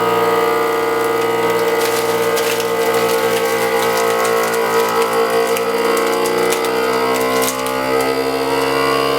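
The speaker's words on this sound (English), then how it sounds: "From there, off to the vac sealer." A vacuum sealer works on a bag of dehydrated shredded potatoes, its motor pump droning loudly and steadily with a grinding, rattling edge that shifts slightly in pitch as the bag is drawn down.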